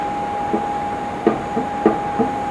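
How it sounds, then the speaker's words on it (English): Nissan RB30 cylinder head rocking on the engine block during an engine rebuild, giving soft dull knocks spaced irregularly about half a second apart, under a steady tone and low room noise. "That's the head rocking. Hear the dunk dunk?"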